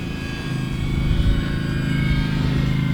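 A brushless E-flite Commander mPd RC plane with a 1.4 m wingspan drones steadily overhead, its electric motor and propeller making an even, continuous whine at moderate volume.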